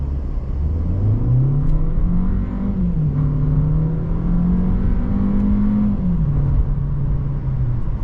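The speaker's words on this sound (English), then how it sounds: "We can't really see our RPMs, but you guys can probably hear them." A 2025 Volkswagen Jetta engine revs under acceleration, its loud, close drone climbing in pitch, shifting and climbing again across the run without any talk.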